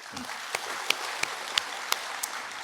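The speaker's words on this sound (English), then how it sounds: "Let's all give a big round of applause" Scattered claps ring out at a general session of a Naga tribal union, a handful of sharp, distinct hand claps spaced out over a soft background hiss rather than full applause.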